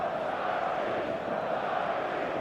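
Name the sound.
stadium crowd noise in video game eFootball 2026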